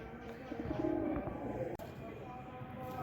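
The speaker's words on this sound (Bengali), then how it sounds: "কবুতরগুলো আলহামদুলিল্লাহ নিজে নিজেই ঘরে ঢোকার চেষ্টা করতেছে।" Pigeons kept at home, some sick and under treatment, give a soft, low cooing near the start over a steady background hiss. A brief click cuts through partway.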